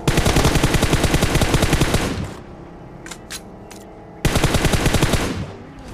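Sprays of automatic gunfire in a mobile battle royale game come in two long, loud rapid bursts, separated by a quieter gap with a few faint clicks and distant thuds.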